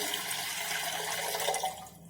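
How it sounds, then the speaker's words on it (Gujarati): Water poured into a large pressure cooker before boiling potatoes, a steady close rushing stream that runs throughout and then tapers off at the end. "કુકરની અંદર આપણે 2 ગ્લાસ જેટલું પાણી લઈશું।"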